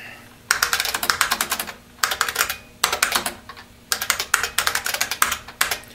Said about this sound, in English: This is a loud keyboard.